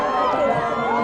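A crowd at a home run derby event cheers and applauds for a player named DJ, a dense, steady roar of voices and clapping held at even loudness throughout a brief moment.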